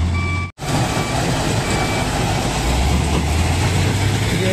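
Stone crusher machine at a crusher plant in India, a loud continuous mechanical roar with a low engine-like hum and a thin tonal whine, briefly cut out near the start and then running steadily.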